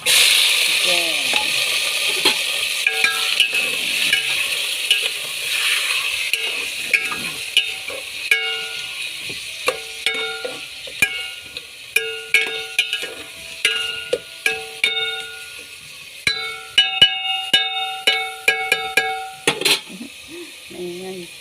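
Chicken pieces sizzle and fry in a pot for Filipino tinola while a spoon stirs them, steady hiss early and then a run of sharp scraping clatters as the stirring picks up.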